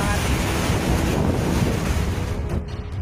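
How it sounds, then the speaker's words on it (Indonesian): Strong storm wind with heavy rain sweeps through a town in Sukoharjo, a continuous loud roaring wash that buffets the microphone for the whole stretch. "tampak hujan deras yang disertai angin kencang itu menerjang dengan sangat kencang"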